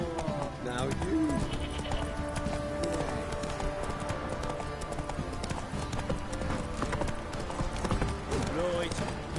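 Geralt's horse Roach in The Witcher 3 gallops with steady, rapid hoofbeats that run continuously beneath game music, with occasional voices talking over the top.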